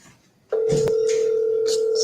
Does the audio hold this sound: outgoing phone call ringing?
yes